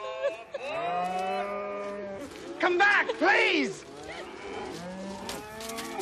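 Cattle on a cattle drive low and moo repeatedly, several drawn-out calls rising and falling at close range, with a person's shout heard among them.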